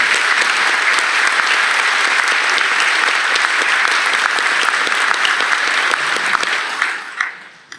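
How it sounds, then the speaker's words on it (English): Sustained, loud applause from families and friends at a Texas regional police academy graduation for Class 298; dense, even crowd clapping fills the hall throughout before tapering off at the end. "Ladies and gentlemen, let's give all the members of Class 298 a round of applause"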